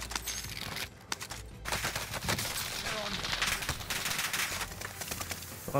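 An Owen gun fires in a shooter video game, with dense rapid bursts of automatic gunfire over loud, continuous game noise. A player talks excitedly over parts of it.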